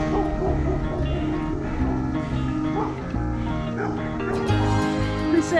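Dog barking and yipping beside a bikepacking ride on a bike trail between Louisville, Kentucky and the Southern Indiana knobs, repeated close woofs over continuous outdoor noise.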